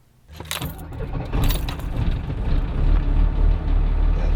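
Ex-military Unimog 4x4 truck engine throttling up outdoors near the Grand Canyon, a low rumble that rises quickly after a brief start and holds loud and steady, with some sharp clanking transients early on and no talk.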